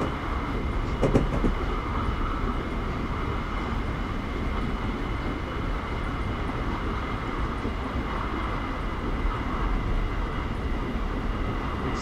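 A Pacific Surfliner passenger train in Train Simulator rolls along with throttle shut and handbrake applied, a steady low rumble of wheels and machinery with a brief rattle early on, no voices.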